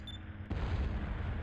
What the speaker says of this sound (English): There's an explosion off the port bow.